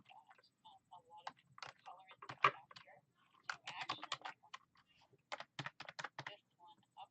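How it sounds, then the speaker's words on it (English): Bursts of rapid keyboard typing, close and fairly quiet, with short pauses between runs of clicking keys. "sometimes the keyboard is kind of loud"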